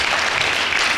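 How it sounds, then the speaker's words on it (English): Conference audience in Washington, D.C. giving a round of applause, a loud, dense, continuous clapping with no speech. "I want to give this group a hand of applause."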